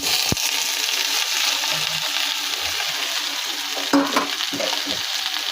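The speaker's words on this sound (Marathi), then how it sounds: "तर आता मी त्याला पूर्ण एकदा फ्राय करून घेते" Marinated okra with masala fries in hot oil in a pan for a thin bhindi bhaji. A steady close sizzle continues throughout, with a few soft stirring knocks and no talk.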